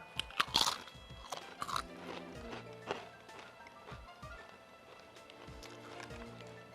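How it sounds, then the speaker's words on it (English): Doritos chips crunch in several sharp, close bites, loudest at first, then give way to quieter chewing. "Tip the chip. Crunch, chug, repeat, brother."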